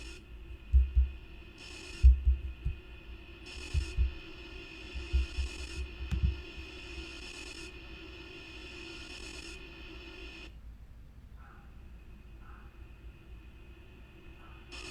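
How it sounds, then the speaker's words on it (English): A riser effect made from a reverbed vocal in a dance-music remix: a murky, droning texture with reverb swelling and pulsing, low thumps early on, then thinning into a hollow sustained wash. "So listen to this sort of riser that I made out of it."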